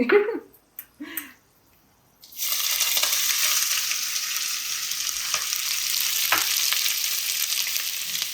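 Garam masala spices and onions fry in hot oil with a loud, steady sizzle that runs continuously after a short quiet start marked by a few brief sounds.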